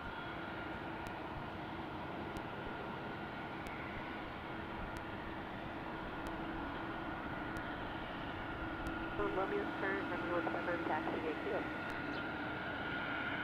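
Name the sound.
Airbus A220-300 airliner arriving and taxiing at airport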